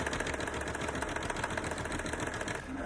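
A sewing machine runs steadily at a brisk, even pace, stitching long gathering stitches on a fabric piece for a ruched top, the needle's rapid mechanical chatter close and continuous with no talking.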